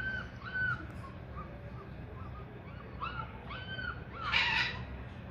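Military macaws call from a guamúchil tree in Zapopan, Jalisco, giving several harsh squawks spread across the stretch, with a louder raspy cry near the end over steady low background noise.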